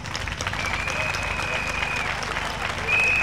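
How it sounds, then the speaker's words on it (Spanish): Crowd applause at an outdoor pro-Palestine demonstration in Murcia, a diffuse spread of clapping and crowd noise heard at a distance, with a faint whistle tone and a louder swell near the end. "Un aplauso"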